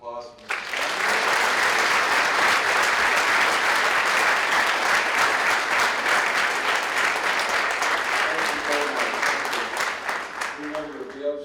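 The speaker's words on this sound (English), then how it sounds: "how about a round of applause?" An audience claps loudly and continuously at a school talk by a Holocaust survivor. The dense applause starts abruptly, holds steady for about ten seconds and then thins out toward the end.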